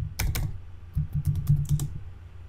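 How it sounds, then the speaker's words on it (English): Typing on a computer keyboard while entering text into a slide design: a quick run of light, close key clicks in short bursts, with no talking. "I'm just going to type, for example, here the page."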